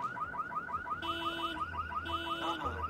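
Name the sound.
car alarm in Splinter Cell: Conviction video game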